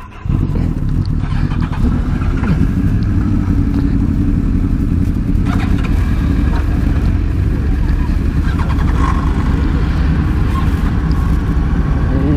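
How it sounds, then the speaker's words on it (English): Roughly twenty motorcycles, including one-litre sport bikes such as a Yamaha R1, Honda CBR1000RR and Honda RVF, idle and rev loudly together as the group moves off, a dense continuous engine roar close by. "we are about to move off and right now we have about 20 bikes"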